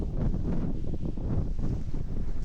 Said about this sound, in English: Now we've got more open fields with lots of wind.